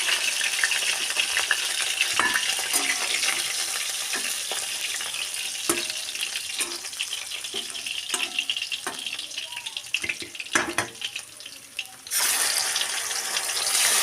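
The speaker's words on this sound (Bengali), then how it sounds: "বাকি যে মাছগুলো আছে এই একইভাবে ভেজে নেবো" Katla fish pieces frying in oil, a continuous sizzling hiss punctuated by irregular clicks and knocks of utensils, fairly close and moderate in level with no speech.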